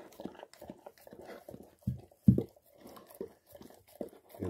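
Cane Corso mother dog eating natural vanilla ice cream, with close, wet licking and smacking chews in an uneven rhythm and a few louder gulps in the middle, no voices.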